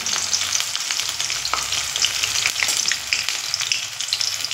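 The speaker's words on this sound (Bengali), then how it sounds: "এখানে আমি দুখানা করে ভেজে নেব। অবশ্যই কিন্তু লো ফ্লেমেই করতে হবে।" Prawn patties shallow frying in oil over a low flame, a continuous loud bright sizzle with crackling pops throughout and no voices.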